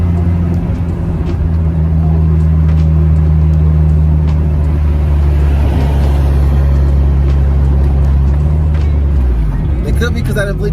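An Acura Integra or Honda Civic on the road gives a loud, steady engine drone with road roar throughout, easing off and giving way to clatter right at the end.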